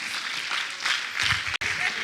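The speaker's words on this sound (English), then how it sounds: "Please standing ovation, please, and a round of applause" Conference audience applause at the 48th PPSN annual conference in Uyo, a dense steady wash of many hands clapping throughout, with a brief dropout near the end.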